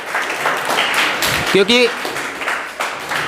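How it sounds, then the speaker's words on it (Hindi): Audience clapping at a New Year celebration event, a loose patter of applause with someone speaking over it briefly in the middle. "एक बार तालियां हो जाए"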